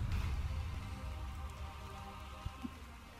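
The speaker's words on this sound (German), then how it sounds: "Acid Rain." Acid rain falling in the survival game ARK: Survival of the Fittest, a steady dense patter of drops on surfaces with a low rumble underneath, continuous and fairly loud, with no voices.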